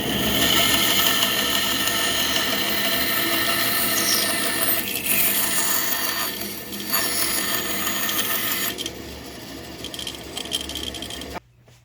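A disc sander whirs steadily as a piece of wood is pressed against it. The hum holds constant, dips briefly a few times as the work is fed in, then cuts off abruptly at the end.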